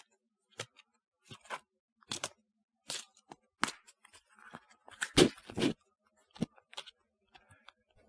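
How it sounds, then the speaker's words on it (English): Tarot cards shuffled dealer-style by hand, a series of sharp riffling clicks and snaps in irregular bursts, close and fairly quiet with pauses between. "You ask me if we can shuffle them like cards, like a dealer would shuffle cards."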